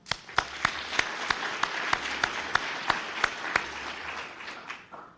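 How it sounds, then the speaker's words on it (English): Audience applause at a Cupertino, California State of the City address, steady and moderately faint, with several sharp individual claps standing out at a regular pace over the broad wash of clapping for about five seconds. "Round of applause for them, please."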